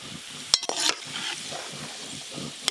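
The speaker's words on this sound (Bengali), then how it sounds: "গোল্ডেন ব্রাউন কালার করে পেঁয়াজগুলো ভেজে নিয়েছি" Golden brown fried onions being lifted out of hot oil with a utensil: soft sizzle underneath, with a few sharp metallic clinks against the pan and a brief scraping stir.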